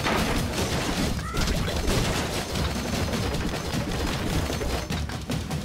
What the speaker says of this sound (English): They're like exploding knives.